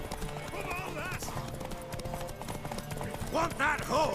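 Horse hooves clip-clopping in The Witcher 3, a steady trotting patter with an occasional whinny, mixed under game music and character dialogue.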